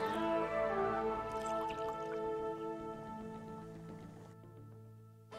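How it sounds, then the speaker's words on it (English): Water is poured in the video game Escape Academy while brewing tea, a steady liquid trickle with drip-like tones under layered game music, fairly loud and fading toward the end. "Add some water, BB."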